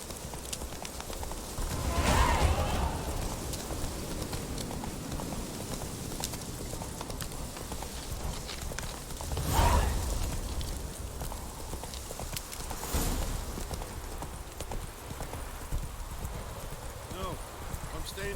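Horse hooves clip-clop at a steady ride through The Witcher 3, a continuous rhythmic patter under background music and occasional speech, with a couple of louder swells along the way.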